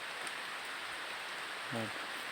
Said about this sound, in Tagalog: Ulan naman dali karon.